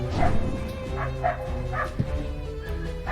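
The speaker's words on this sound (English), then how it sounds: "there's dogs having a fight out there" Dogs fighting bark repeatedly in the distance outdoors, muffled yaps recurring about every half second over a steady low hum.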